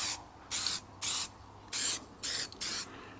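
Spray paint can spraying in five steady bursts of about half a second each, close and hissing, separated by short quiet gaps, with no talking.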